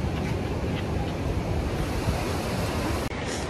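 Waterfall in Yosemite Valley as a dense, steady roar of rushing water, loud and continuous from nearby, with a brief dropout near the end.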